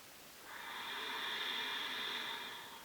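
A slow, steady exhale during a yoga breathing exercise, a soft airy breath that swells in after a brief pause and holds evenly for over two seconds, close and alone.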